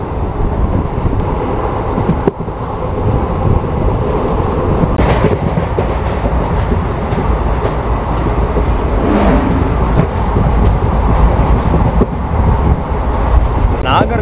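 Ananthapuri Superfast Express running from Kollam toward Tambaram, a steady loud rumble of wheels on rails heard from inside the train, with rhythmic clicks and occasional sharp jolts throughout.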